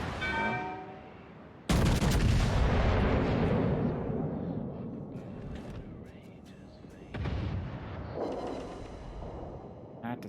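Naval artillery in World of Warships, fired from the Tier VIII battleship Kansas: a sudden heavy boom rolls into a long decaying rumble, followed later by a second weaker blast, with a voice heard beneath.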